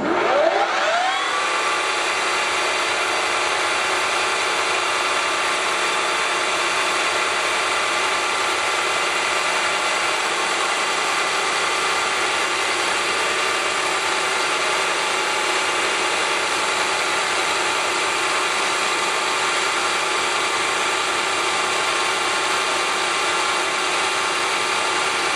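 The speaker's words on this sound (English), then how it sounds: "There we go, one hole drilled." Harrison M300 lathe spinning steadily while a 1/16 inch drill bit bores a hole in the workpiece, a continuous close mechanical whir with layered tonal hum that holds unchanged for about twenty-five seconds.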